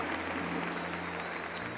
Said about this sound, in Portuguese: Aplauda a igreja católica, apostólica, romana